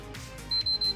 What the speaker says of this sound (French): ces pannes peuvent résulter par une LED jaune suivie de 3 petits bips s'appelant ELOD pour Yellow Light of Death